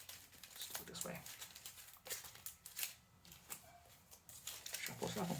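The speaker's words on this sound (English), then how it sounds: "Shuffle, shuffle." Soft riffling and flicking of cards for the board game The House of Wisdom being shuffled, with a quiet voice talking over the papery clatter.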